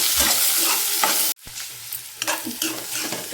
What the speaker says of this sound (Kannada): ಈರುಳ್ಳಿ ಹಸಿಮೆಣಸಿನ್ಕಾಯಿ ಇದಕ್ಕೆ ಹಾಕಿ ಚೆನ್ನಾಗಿ ಬೆಂದ್ಕೊಳ್ತೀನಿ